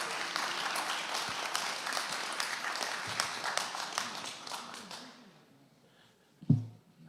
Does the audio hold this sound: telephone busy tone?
no